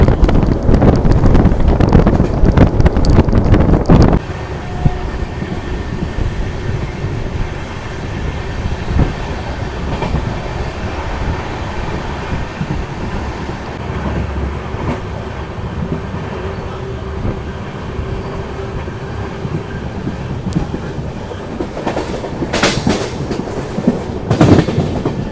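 Swarn Nagari Express (12249) sleeper-class train running on the track toward Jaisalmer, heard from inside as a steady rumbling roll with wind noise, loudest at the start and easing into a continuous lower drone with occasional clanks.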